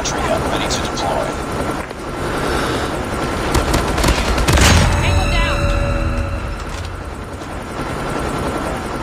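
A stealth helicopter arrives in the mobile shooter COD Mobile, a constant loud rotor and engine roar mixed with gunfire and a swelling boom midway.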